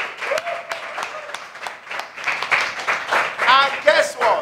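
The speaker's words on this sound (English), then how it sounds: "a round of applause for all of you that have made today awesome." Applause from an audience at a school graduation event, a steady wash of clapping that swells and fades over several seconds with a voice calling out over it.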